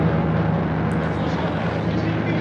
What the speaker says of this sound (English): Sounds like a plane.